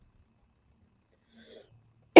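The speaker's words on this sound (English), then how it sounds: "Sorry for the coughing." A single sharp, loud cough bursts out at the very end after near silence and a faint murmur of breath.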